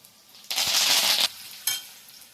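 Curry leaves dropped into hot oil with dal in a pan, making a loud burst of crackling sizzle that runs for under a second, fades, then flares again briefly.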